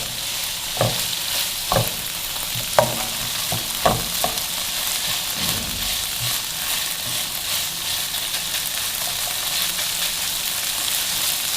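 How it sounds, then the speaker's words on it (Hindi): Chicken mince fries in a pan with a constant close hiss and sizzle, punctuated early by several sharp spatula knocks and scrapes, then settling into an even bubbling sizzle. "ये हमारा ये कीमा भुन गया, हम फ्लेम से इसको नीचे उतार देंगे।"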